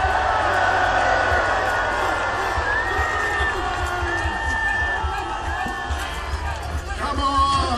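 Outdoor crowd at a Bannockburn battle reenactment in the rain raises a cheer, a broad roar of many voices with scattered whoops under wind noise, swelling again near the end.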